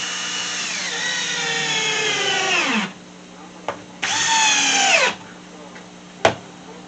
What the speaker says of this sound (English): we'll counter drill and put one closer to the end